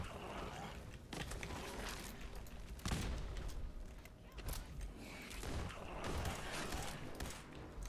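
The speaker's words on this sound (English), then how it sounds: "Oh my god, I missed all of those shots." A rapid spray of gunfire in the Wasteland 3 role-playing game comes through fairly faint, as repeated sharp cracks over a dense, busy layer of combat noise.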